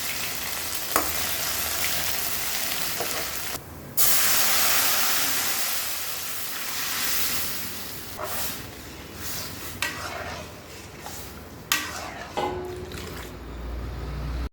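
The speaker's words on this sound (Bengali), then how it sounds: "ডাল রান্নার জন্য ফোড়নে দিয়ে দিলাম তেজপাতা, শুকনা মরিচ, পাঁচফোড়ন, এলাচ, দারচিনি আর আদা।" Bay leaf, dried red chili, panch phoron, cardamom, cinnamon and ginger spluttering in hot oil as a tempering for chana dal, loud continuous sizzle with bursts of crackling and occasional clinks of a spoon.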